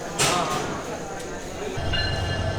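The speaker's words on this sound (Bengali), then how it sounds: "আমাদের ট্রেনটি আসতেছে," A passenger train draws into Akhaura station in Bangladesh, a close, loud rumble of rolling cars with a brief sharp tone at the start, and a short horn-like note near the end.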